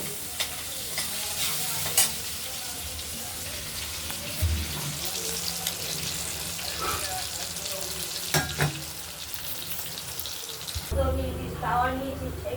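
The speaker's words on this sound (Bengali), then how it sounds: "বাটা মশলাটা দিয়ে দেওয়া হয়েছে কড়াইতে এবং এটা মশলাটা নাড়াচাড়া দিয়ে যতক্ষণ না তেল বেরোচ্ছে ততক্ষণ আমরা এটা কষাতে থাকবো" Ground spice paste with red chillies is stir-fried in a wok, sizzling steadily while a spatula scrapes and turns it in frequent rhythmic strokes, close and moderately loud.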